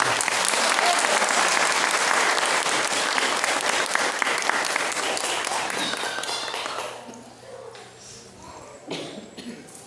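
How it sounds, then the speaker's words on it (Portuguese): Warm applause from a church congregation honoring the Virgin Mary, a dense loud wash of clapping that fills the first six seconds, then thins out and fades with a few scattered claps and a cough near the end. "eu quero uma calorosa salva de palmas"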